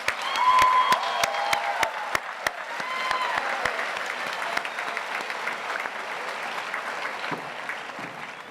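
Applause fills a large hall at a high school commencement ceremony, a broad roar of many hands with a few sharp, distinct claps up front, and light cheering that gradually eases off toward the end.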